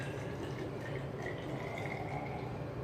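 About 100 ml of liquid pours into a container during gold ore processing, giving a steady, moderately quiet rushing trickle that continues without a break.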